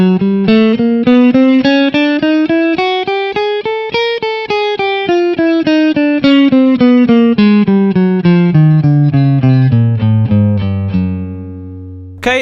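An electric guitar with distortion plays a technique warm-up exercise: a steady run of evenly picked notes climbing and then descending in pitch, ending on a sustained low note, loud and alone.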